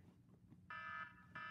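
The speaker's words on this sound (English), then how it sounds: "there's the timer" An electronic kitchen timer beeps indoors in two loud, steady tonal bursts, the first about a third of a second long and the second starting after a short gap, over a quiet room background.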